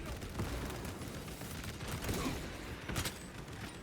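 Gunfire and sniper shots crackle in the Warhammer 40,000 Space Marine 2 video game, a dense fusillade of mid-distance bursts and booms under faint game noise.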